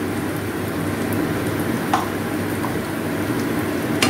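Small fish frying in a pan with salt, turmeric and chili powder for a Bengali onion-stalk fish jhal, a steady close sizzle with faint crackles and a light clink of stirring, no voices.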